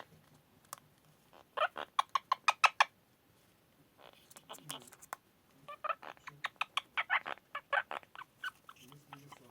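A pet parrot chatters and sings while preening its feathers, giving bursts of rapid sharp clicks and squawky notes in irregular clusters with short pauses, close and fairly quiet.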